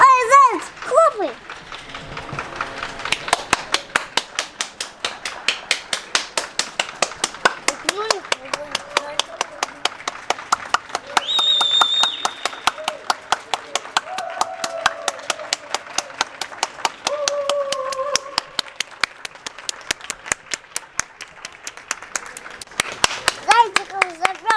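Rapid, steady hand clapping repeats close by for over twenty seconds, in a brisk even rhythm with short pauses, as a child and an adult chatter and call out over it.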